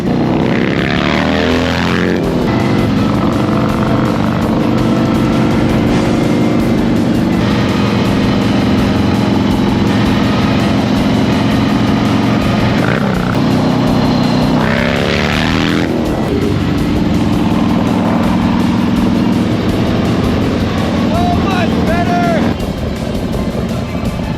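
Harley-Davidson FXDX with carburetors and straight pipes, running loud and steady close by, with several sharp rev sweeps rising and falling over its rumbling idle.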